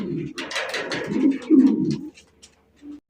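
Fancy pigeons kept for sale coo nearby in low, throaty rolling calls that swell and fade over a few seconds, loud and close.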